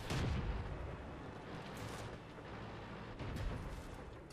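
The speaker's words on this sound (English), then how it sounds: "Now the VK is taking shots at the T-25." Tank cannon fire in World of Tanks during a KV-85 match as a VK shoots at a T-25: a heavy, booming shot near the start and another around three seconds in, over a steady rumbling battle din.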